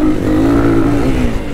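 A YCF motorcycle engine accelerates in third gear, a loud, close, continuous rising whine with a buzzing rasp that holds steady throughout the short burst.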